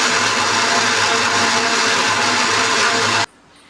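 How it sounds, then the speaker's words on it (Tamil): A mixer grinder jar whirs loudly and steadily as it blends cashews and soaked dal into a paste, the motor cutting off abruptly near the end. "இந்த ஜார்லேயே போட்டுட்டு நம்ம மொத்தமாக அரைச்சி பேஸ்ட் மாதிரி எடுத்துகிட்டு போகிறோம்"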